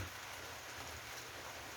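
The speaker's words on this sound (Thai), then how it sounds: "บรรยากาศฝนตก" Soft, steady rainfall outdoors near a rice-field hut kitchen, a faint continuous hiss with no voices.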